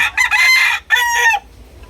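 A rooster crows loudly and close by in two strong bursts, the second a drawn-out harsh call that cuts off abruptly into quiet background.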